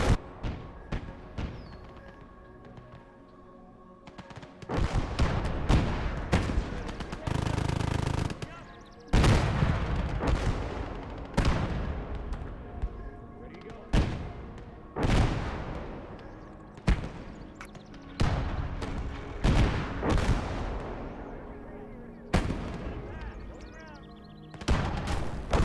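Gunfire and artillery in the World War II game Gates of Hell, with sharp shots and heavy booming blasts recurring irregularly across a busy battle soundscape, with voices in the background.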